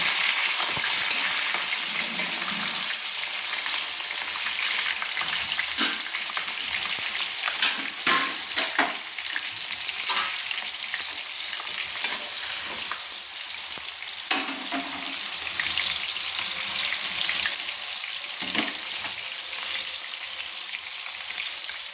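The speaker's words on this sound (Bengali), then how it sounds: "এবার দিচ্ছি আমি টমেটো কুচি। টমেটোটাকে আমি একটু নেড়ে নিচ্ছি।" Chopped tomato sizzles and fries in a pan while being stirred for mutton kosha, a steady close crackle with scattered scraping stirs throughout.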